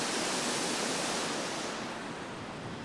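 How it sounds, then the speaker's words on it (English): Waterfalls below a bridge at a castle, a broad steady rush of falling water, dense and continuous, heard at a distance with no voices. "I love the waterfalls."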